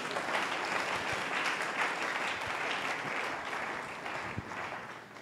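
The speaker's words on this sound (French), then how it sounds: "Acclamons Jésus." A church congregation applauding steadily, a dense, sustained wash of many hands clapping that fades slightly toward the end.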